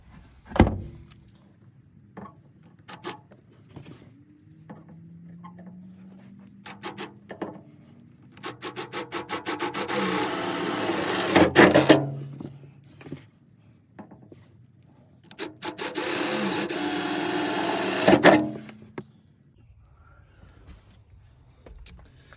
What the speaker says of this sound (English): So now you just gotta drill a hole.